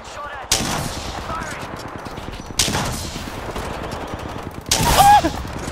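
Apex Legends gunfire, three separate loud shots or short bursts spaced about two seconds apart, each sharp crack ringing over a steady background of game ambience.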